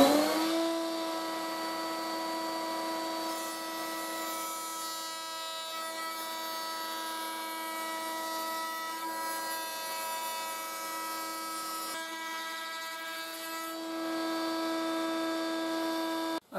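Router with a bearing-guided bit cutting a decorative profile freehand into wood, a loud sustained high motor whine with a steady cutting roar running for the whole stretch.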